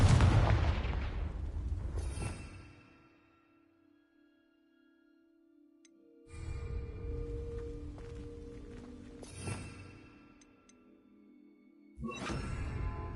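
Confringo blasting spells go off in Hogwarts Legacy as a series of heavy, booming explosions, each followed by a rumbling tail and a low fading hum, separated by quiet gaps.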